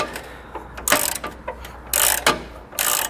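Ratchet wrench breaking loose a tight, oil-soaked nut on a 2018 Ford F-150 during a base plate install, giving quick bursts of metallic clicking in irregular spurts, close and fairly loud with no talking.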